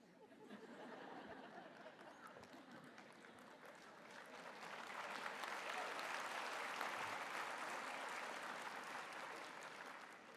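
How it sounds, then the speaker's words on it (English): Parents and families applaud at a college convocation ceremony in a large hall, starting as lighter clapping with some chatter and swelling into a louder, sustained round of applause. "That's the parents clapping, right?"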